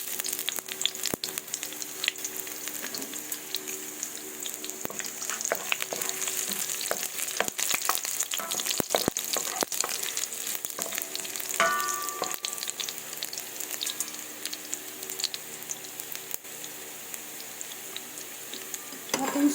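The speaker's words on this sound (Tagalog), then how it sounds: "Maglalagay na tayo ng mantika. Ayan. Kunti lang. Igisa natin ang ating bawang." Garlic sautéing in a small amount of cooking oil for pancit canton, a continuous close sizzle with sharp clicks of a spatula scraping the pan throughout, no voices.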